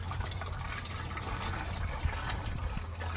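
Liquid plant probiotic brew being poured off from a container, a steady, soft pouring wash running continuously at close range with no talk.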